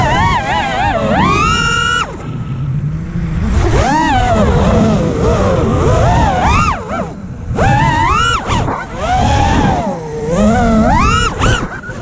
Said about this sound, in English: It's a drone.